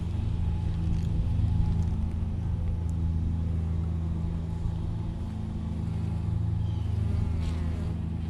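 Honey bees during a beehive inspection, a dense continuous buzz of many insects close by, steady and fairly loud throughout with no talking.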